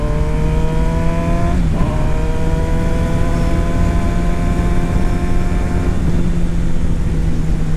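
A Kawasaki Ninja 636 motorcycle taken through corners at a cruising pace, its engine a loud, steady droning whine that dips briefly and then holds, with wind rush all through.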